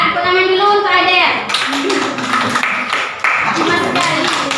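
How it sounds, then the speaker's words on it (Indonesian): Students in a high school social studies classroom clap for a classmate, brief scattered claps mixed with a speaking voice and room chatter, starting after a moment of talk. "Tepuk tangan dulu untuk Adel."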